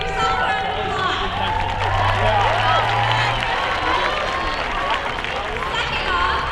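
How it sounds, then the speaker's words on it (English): A crowd in the stands at a baseball game keeps up sustained applause and cheering, with a thick wash of clapping and crowd noise and a few voices carrying through the din. "Give yourself a round of applause."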